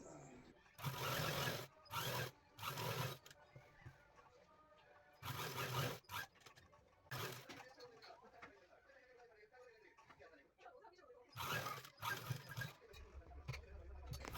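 Sewing machine stitching an A-line gown, firing in repeated short, loud bursts of rapid needle clatter between stretches of soft talk in the room.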